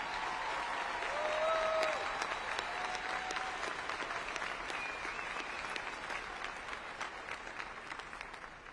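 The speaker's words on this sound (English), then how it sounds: "Let's give these individuals a round of applause as well." A crowd at a high school graduation applauds steadily at a moderate distance, the dense patter of clapping slowly thinning out, with faint voices mixed in.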